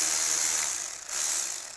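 A ratchet wrench works loose a tight 12 millimeter bolt on the upper ball joint of a 1996-2002 third-generation Toyota 4Runner, giving a steady, close, fairly quiet stream of rapid clicking with a brief dip partway through, with no talking.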